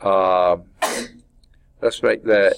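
A single sudden sneeze bursts out between stretches of a person talking, close and fairly loud.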